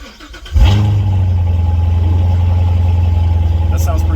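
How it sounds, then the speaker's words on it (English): A supercar's engine cold-starts with a sharp crank and catch, then settles into a loud, deep, steady idle that rumbles close by for several seconds. "So let's do a cold start."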